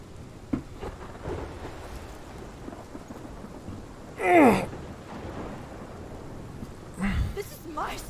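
Thunderstorm in the video game Life Is Strange, a bed of steady rain under two louder rumbling thunder bursts, one sharp crack midway and another a few seconds later.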